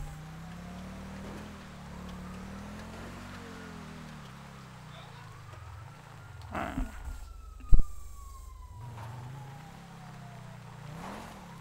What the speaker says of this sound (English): Hear the sirens.